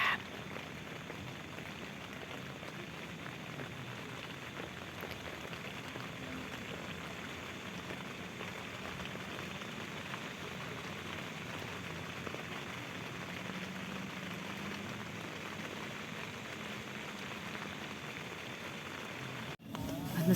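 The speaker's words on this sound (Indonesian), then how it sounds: "Pantesan ini dingin banget soalnya hujan kan." Steady rain patters on a tent nearby, a constant dense hiss with fine drops and no pauses.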